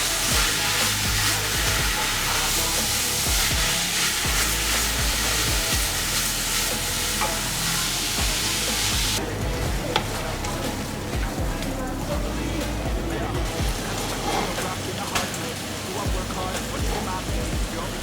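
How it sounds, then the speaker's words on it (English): Vegetables sweating with bacon in a pan for a Bolognese sauce: a continuous crackling sizzle, like rain on a surface, with occasional stirring noises, close and steady. Music plays along with it. "Sweat the vegetables with the bacon for 10 minutes."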